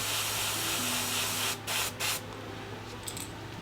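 An airbrush hisses steadily as it sprays paint onto a fishing lure, then cuts to a few short bursts before fading to a quiet hiss.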